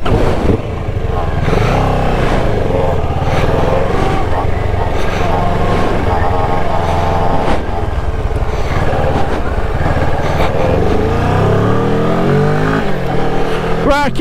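A Kawasaki ER6n 650 motorcycle rides along a twisty country road, its parallel-twin engine droning loud and close with repeated throttle rises and gear changes over rushing wind.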